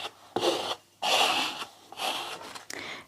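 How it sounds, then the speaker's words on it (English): A scraper rubs repeatedly across a decoupage napkin laid on a canvas, smoothing out wrinkles. Four broad, close scraping strokes come in a steady back-and-forth rhythm, loud and alone with no talking. "if you want to take out as much wrinkles as you can take something like this, a scraper"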